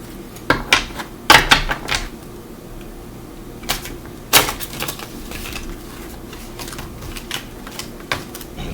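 Several sharp clattering bursts of cards being riffled and snapped, loud and close, separated by quieter pauses.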